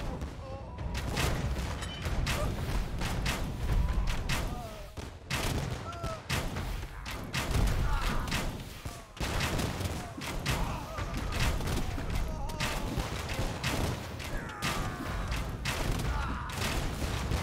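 Volleys of hand cannon gunfire in an Age of Empires 2 battle, with dense overlapping thuds and booms sounding continuously at a steady, moderate level and no one speaking.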